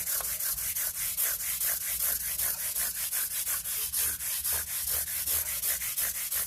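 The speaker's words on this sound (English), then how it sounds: "Now I'll use a 180 grit. Each time it gets easier and easier." Guitar frets are sanded by hand with 180 grit sandpaper, giving close, even back-and-forth scratchy strokes in a quick steady rhythm, with no talking.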